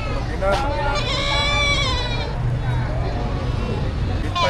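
Goats bleat in wavering cries at a livestock market in Padre Garcia, Batangas, over a busy crowd of people talking, with a constant low rumble of background noise.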